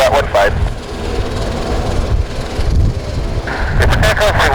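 A Saab 340 turboprop airliner departs at St. Kitts airport, its engines a steady, broad roar throughout with wind-like rumble; a voice speaks briefly near the start and again at the end.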